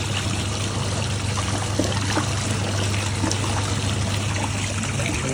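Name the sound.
water running in and out of Hitachi twin tub washer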